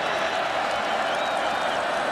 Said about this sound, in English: the crowd gets loud on third and three